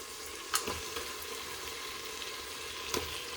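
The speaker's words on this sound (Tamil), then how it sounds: "இப்போது மட்டனை போட்டு நல்லா வதக்கி விட்டுக்கலாங்க." Mutton pieces sautéing with onion and tomato in a pan for goat curry, a steady soft sizzle with two brief stirring scrapes standing out.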